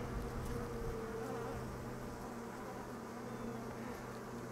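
Honeybees drone steadily at a hive holding an immature queen and too little comb, a dense, continuous buzz filling the whole stretch at close range with no talk.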